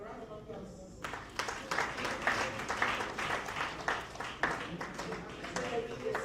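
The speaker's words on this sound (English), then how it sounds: "A round of applause." Audience applause breaks out at a union workshop and book launch as an award is received on someone's behalf, with moderately loud, uneven clapping after a quieter moment and voices mixed in.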